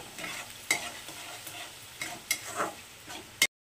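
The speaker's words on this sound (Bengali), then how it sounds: "এখন মুগ ডালটাকে এই মশলাটার সঙ্গে একটু কষিয়ে নেব" Mung dal is stir-fried with spices, a soft background sizzle broken by several sharp scraping strokes of a spatula against the pan, close up with no speech.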